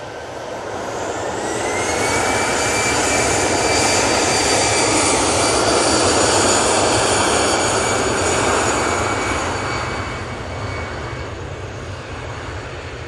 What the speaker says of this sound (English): This one's back off to Belfast, using the 319 for this.